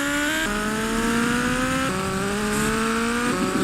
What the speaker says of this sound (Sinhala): මම මේ බයික් එක යනවා.